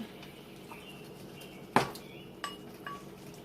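Chicken and squash autumn stew being ladled into a bowl, with one sharp clank of a utensil on the pot followed by a couple of lighter clinks over a quiet kitchen background.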